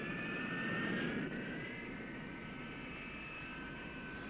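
A jet engine on a test stand, the type used in the McDonnell-Douglas F-4 Phantom, roaring steadily with a high whining tone that climbs slightly, a loud continuous rushing sound with no voices.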